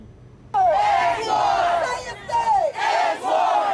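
Protesters in downtown Pittsburgh chant and shout in unison after a brief quiet moment, loud and close, with rhythmic rising voices breaking off and restarting in waves.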